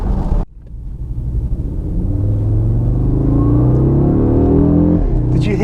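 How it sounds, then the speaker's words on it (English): An Audi RS Q3 Sportback accelerates hard after a brief cut. Its loud, close engine rumble climbs steadily in pitch while a faint, thin turbo-style whistle rises above it. "Did you hear that whistle there?"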